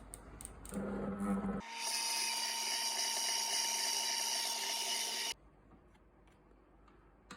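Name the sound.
electric beater mixing feijoa muffin batter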